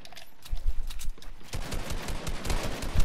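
Video game gunfire crackles in rapid bursts, a sparse patch first and then a dense, loud volley of shots over the last half, with no voices.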